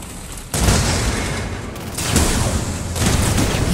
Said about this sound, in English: Nuclear weapon launched.